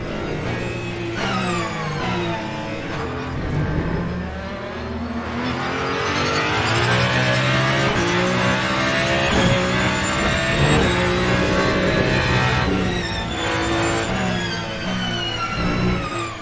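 Loud, sustained racing car engines roaring and revving continuously in the racing game Le Mans Ultimate, including LMP2 cars and turbocharged V6 hybrids, with rising and falling pitch as gears shift, no voices.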